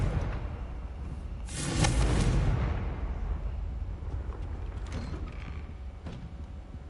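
A single Confringo fire spell detonates in Hogwarts Legacy on hard difficulty, a loud roaring burst near two seconds that trails off into a rumbling, creaking tail.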